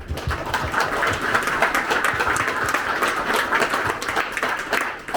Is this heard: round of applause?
yes